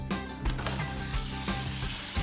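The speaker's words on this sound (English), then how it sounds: "Look at that sizzle." Chicken pieces sautéing in a hot pan, a steady close sizzle and crackle with light popping throughout.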